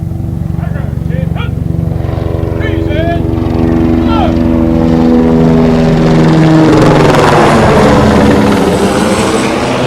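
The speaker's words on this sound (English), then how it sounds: "Homeland Security helicopter announced its arrival, hovering over the crowd" Loud, steady rotor thump of a Homeland Security helicopter hovering over a crowd at a September 11th memorial ceremony, droning continuously with a rising whine as it draws closer, voices faintly beneath.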